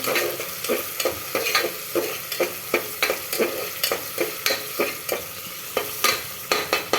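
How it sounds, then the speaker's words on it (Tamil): Onions frying in a pan for a mutton dish, stirred with a knife instead of a spoon, giving a rapid, regular series of sharp scraping taps over a steady sizzle, close by and with no talking. "அதனால் எமர்ஜென்சிக்கு கத்தி யூஸ் பண்ணுறேன் மக்களே கிளறதுக்கு."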